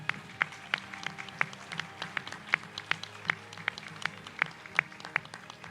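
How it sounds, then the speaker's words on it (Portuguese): A small audience at an emeritus professors' ceremony applauds, with a few distinct, rhythmic hand claps standing out over a soft background patter. "Eu gostaria de uma salva de palmas para ela."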